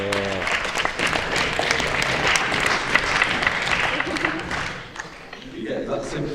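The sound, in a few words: audience sympathy clap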